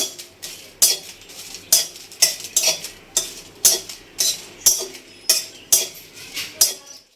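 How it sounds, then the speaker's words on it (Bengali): A spatula scrapes across a pan in a steady rhythm, about a dozen sharp strokes, over a faint sizzle of dried red chillies frying. "আমের আচারের জন্য আমি একটু শুকনো লঙ্কা ভেজে নেব"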